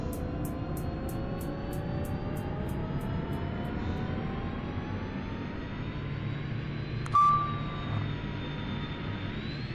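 A Pilatus PC-12 turboprop engine in the X-Plane 12 flight simulator whines and rumbles steadily as it spools up, with rising tones and a brief sharp click partway through.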